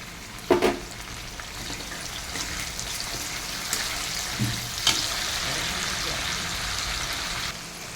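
Chopped tomato sizzles in a hot pan, a steady moderate frying hiss with a thud as it goes in and a few scraping stirs, alone without talk.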